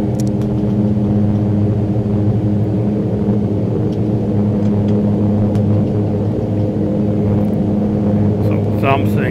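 A Mitsubishi MU-2 turboprop taking off in a flight simulator: a steady, loud engine drone with constant tonal hum holds throughout, with a brief higher whine near the end.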